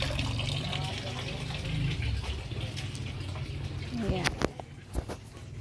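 Water gushes strongly from a tap in a steady, noisy rush while people talk over it.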